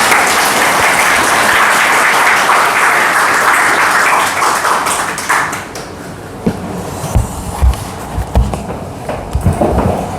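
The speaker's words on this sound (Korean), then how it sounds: "우리 따뜻한 구르가온 한인교회 박수로 우리 환영하겠습니다" The Gurgaon Korean Church congregation claps warmly to welcome a visiting pastor at a Sunday service. Loud, dense clapping lasts about five seconds, then thins into scattered claps and room shuffling.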